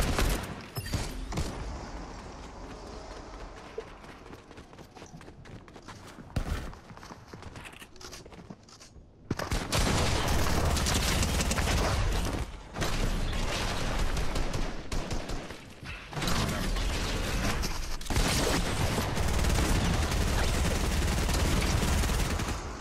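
Automatic gunfire sprays in long rapid bursts in Fortnite, loud and dense, with a quieter stretch of scattered shots and footsteps first, then sustained heavy fire to the end.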